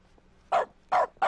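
A dog in The Stanley Parable video game barks three times in quick succession, loud, short, and close, with brief gaps of quiet between the barks.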